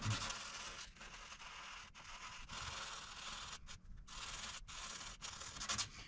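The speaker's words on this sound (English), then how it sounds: "So now I'm just gonna sand this around it." Steady dry scratching of 400-grit sandpaper rubbing on fiberglass during a gel coat repair, continuous strokes with brief pauses, close and fairly quiet.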